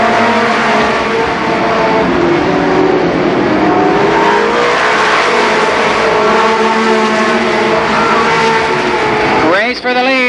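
Race cars at Columbus Motor Speedway, during the Nuckles Memorial in 1990, with two drivers battling for the lead late in the race. Loud, continuous engine roar with shifting revving tones, and an announcer calls the action over it.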